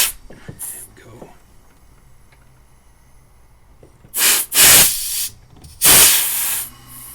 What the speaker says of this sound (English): I only had the air compressor at about 40 psi and it was pumping it up past 25, 30.